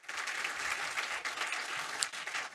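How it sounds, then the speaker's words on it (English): Audience applause for a panel at a conference or forum session on central bank policy, steady clapping throughout, fairly close and full, with no talking over it. "Thank you, with a big applause to the panel."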